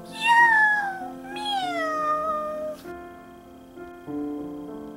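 A reader's voice imitates a cat meowing in a children's story, three drawn-out, sliding meows in close succession, loud and near, with a soft musical accompaniment underneath.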